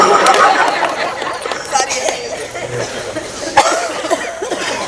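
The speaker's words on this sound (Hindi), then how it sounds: "ये जो खांसी हो रही है ना, ये ब्रजरज को प्रतीक है।" Scattered coughs rise from a noisy crowd of pilgrims, mixed with murmured chatter and a few chuckles, with one sharper cough standing out near the end.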